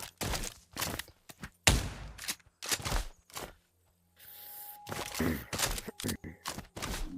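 Gunfire in a roleplay video game, a burst of sharp loud shots in quick clusters separated by pauses, with thuds and muffled background noise.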